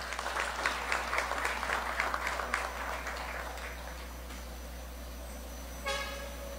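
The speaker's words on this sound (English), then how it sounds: "A round of applause, please." Audience at a drug enforcement awarding ceremony claps for a few seconds, the applause loud at first then thinning out, over a steady low electrical hum, with a brief tonal toot near the end.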